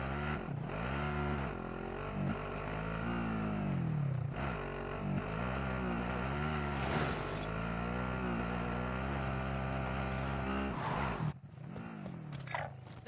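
A car in a PS4 video game drives along with a steady engine drone, its pitch rising and falling as it revs and shifts, before it cuts out abruptly near the end.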